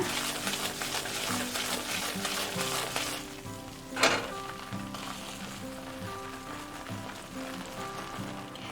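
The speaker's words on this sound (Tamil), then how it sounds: "சக்கரை பாகை சேர்த்த உடனே அது செட் ஆக ஆரம்பிக்கும். கலந்து விட்டுட்டே இருங்க." Besan halwa being stirred in a pan with sugar syrup, a steady wet sizzling and scraping texture running throughout under background music, with one brief louder clatter midway.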